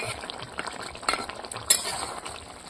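A spatula stirs boiled potatoes in a curry, giving soft scraping and sizzling close by, with light clinks of metal against the pan.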